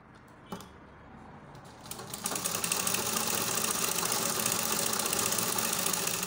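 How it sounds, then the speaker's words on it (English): Sewing machine stitching a fabric dart on a baby girl's halter-neck peplum top, starting with a brief tap, then running steadily in a fast, continuous mechanical whir, close and fairly loud, with no talking. "Finish sewing my dart now."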